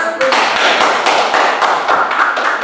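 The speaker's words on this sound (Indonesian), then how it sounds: "Kasih aplaus" Classroom applause during a microteaching session, a brisk run of close hand claps with an irregular, fairly dense rhythm, loud and up front.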